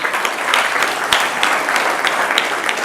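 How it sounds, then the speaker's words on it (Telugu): Students in a school audience at an exam-preparation talk applaud, a loud, close, continuous patter of many hands clapping with slight surges in intensity. "వీళ్ళిద్దరికీ ఒకసారి క్లాప్స్ కొట్టండి."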